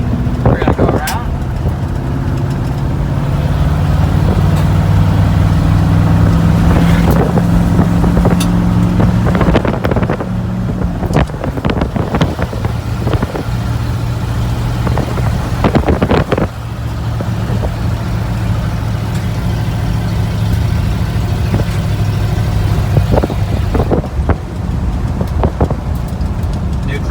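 Engine of an old project truck driving, a steady low drone under wind buffeting and clunks, with a person talking over it.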